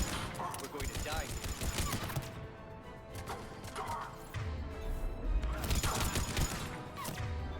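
Gunfire in the video game Mass Effect 3, with repeated sharp shots and crashing impacts spread through a dense, busy mix, alongside low rumbling action sounds.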